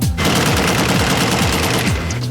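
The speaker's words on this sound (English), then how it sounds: "Gunfire!" Loud, dense rapid gunfire rattles continuously on the set of a car chase for The Matrix Reloaded, with a pulsing low engine-like rumble beneath it.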